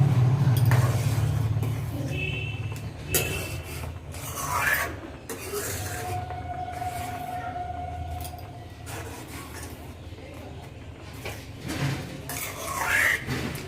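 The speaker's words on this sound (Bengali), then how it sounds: "এভাবে কিন্তু মাঝে মাঝে নাড়তে থাকবেন" Payesh, a Bengali rice pudding, stirred in a pot in a village kitchen, with a steady rasping scrape of a spoon against the pot and an occasional clink of metal, close and continuous with no talking.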